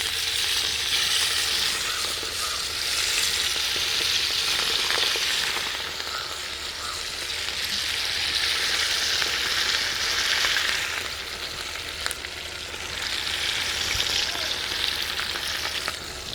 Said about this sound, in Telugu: ఆయిల్ కాగిందండి. ఒక్కొక్కటిగా ఇట్లా వేసుకుందాం మనం.